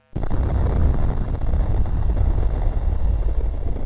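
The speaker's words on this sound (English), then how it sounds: "an explosion that big would likely destroy more than just Sherry's bedroom" A sudden loud explosion bursts in and rumbles on as a dense, roaring blast that stays heavy throughout.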